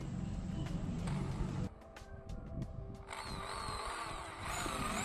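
A power drill bores a hole through the wooden axle of a handmade baby walker, a steady motor whine with a short pause midway before drilling resumes, close and fairly loud.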